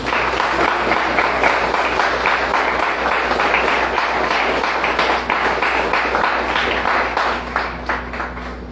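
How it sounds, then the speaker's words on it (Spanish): A congregation at a Messianic Jewish Torah service applauds together, a dense continuous roar of many clapping hands that holds for about eight seconds before thinning slightly at the end. "Den un aplauso al Rey de Reyes"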